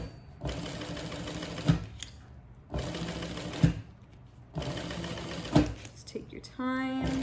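Sewing machine topstitching a handbag in three short bursts of about a second each, separated by brief pauses, close and fairly loud, ending with a faint tonal beep-like sound.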